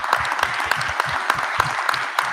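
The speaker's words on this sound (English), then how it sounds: "Let's give everyone a round of applause." Hackathon audience gives a round of applause, steady clapping from a crowd with regular distinct hand claps standing out close by, continuing evenly throughout.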